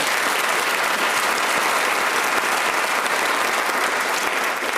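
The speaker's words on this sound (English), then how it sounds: "ladies and gentlemen, a round of applause, please, for Fran Bowman." Studio audience applause on a British comedy panel show, dense and loud, an unbroken wash of many hands clapping at an even level that tapers only slightly at the end.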